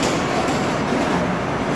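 A steady, loud rumbling roar of a subway train rolling in on the Daegu, Korea subway, continuous and close with no voices.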